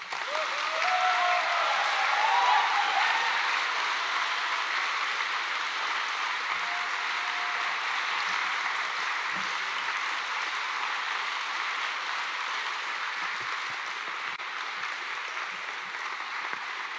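Steady applause from a lecture audience welcoming a speaker to the podium, a broad wash of clapping that holds evenly for the whole stretch and fades slightly toward the end.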